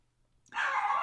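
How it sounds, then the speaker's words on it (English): A pet dog gives a single short bark or yip in the background, starting abruptly halfway through after near silence and ringing out moderately loud. "if you can hear my dog in the background"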